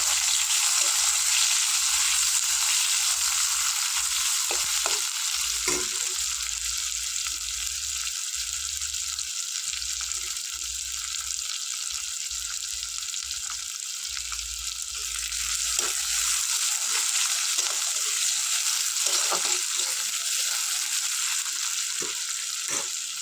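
Onion frying in oil with cumin and bay leaf, a steady loud sizzle with bright crackle that runs unbroken, broken only by the odd stir, and no voices.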